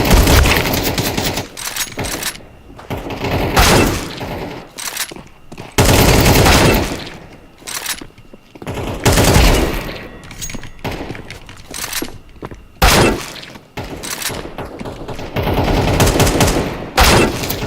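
Bursts of rapid gunfire in CS2, loud clustered volleys and machine-gun rattles separated by short lulls, with scattered metallic clinks between them.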